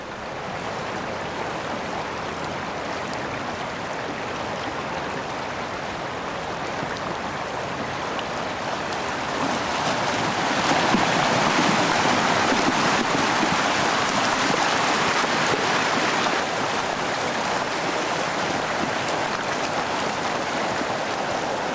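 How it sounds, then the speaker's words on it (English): Yosemite Creek in Yosemite, carrying frazil ice, rushes past as a steady, close, full-bodied roar of turbulent water that swells louder midway and then holds, with no voices. "the Yosemite Creek and all of its might is coming toward us"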